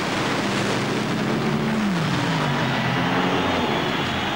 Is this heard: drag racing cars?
yes